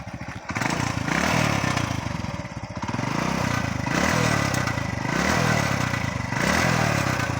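A Hero Honda CD100SS motorcycle engine runs steadily up close and loud, with a repeating rough rev pattern every second or so and mechanical clatter, no talk.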